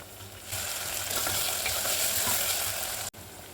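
Coriander and mint leaves sautéing in a pan for vegetable biryani, a steady crackling sizzle that starts abruptly and holds evenly before cutting off near the end.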